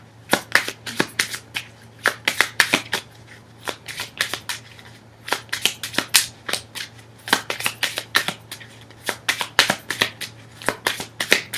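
A deck of tarot and Lenormand cards is shuffled close up in repeated quick bursts of sharp riffles and taps, alone over a low steady hum.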